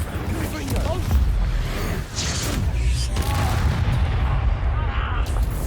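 Incendio fire spell cast in the Hogwarts Legacy video game, a dense rumbling burst of combat effects with booming, crackling impacts that stays loud and busy throughout.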